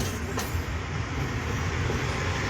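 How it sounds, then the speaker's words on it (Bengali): Train rolling slowly across the Jamuna bridge on a foggy day, a steady low rumble of wheels and carriages with a faint clickety-clack, continuous and fairly close. "ব্রিজ পার হওয়ার সময় ট্রেন খুব ধীরে ধীরে উঠে এবং ধীরে ধীরে নামে।"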